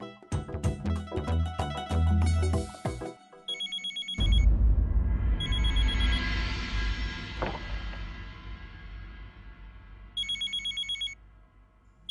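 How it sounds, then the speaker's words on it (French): A telephone rings in repeated bursts of bright electronic trilling, loud and close, with a stretch of other noise between the rings and no talk. "Je crois que mon téléphone sonne"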